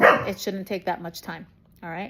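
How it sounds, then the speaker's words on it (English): A dog barks indoors near a door, a quick series of sharp barks followed by one more after a short pause, close and loud, while a person talks over it. "Sorry about my dog. If someone breathes near the door, he's barking."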